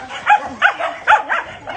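Dogs at an animal shelter bark in a quick series of short, loud, close yips and barks, about four or five in under two seconds.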